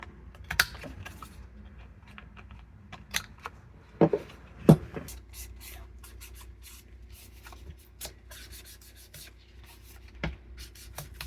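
Top corners of a paper envelope being rounded off, giving a few sparse, crisp snips and clicks against soft paper rustling, quiet and close, with no talking.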